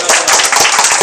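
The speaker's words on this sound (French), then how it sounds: "Applaudissez!" Brisk, close clapping by people at an outdoor barbecue gathering, a burst of rapid hand claps lasting about a second.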